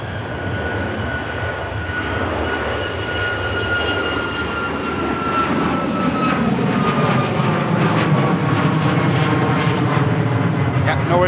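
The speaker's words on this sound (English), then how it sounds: "Ryanair on the roll here." A Ryanair jet starts its takeoff roll at Manchester Airport, its engines spooling up from a whine into a rising, louder roar with shifting tones, while a voice talks intermittently.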